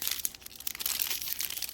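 Plastic wrapping crinkles and tears as an item from a subscription box is unwrapped, a close, busy rustle lasting under two seconds.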